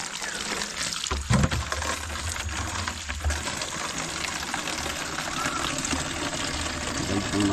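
Clean water from a tank rushing and pouring steadily at close range outdoors in a garden field, a continuous broadband wash that persists throughout with a brief louder splash early on.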